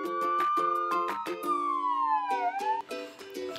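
A police car siren sounds loud and close, cycling through rapid yelping bursts, then a long falling wail before the quick pulses return, with no voices.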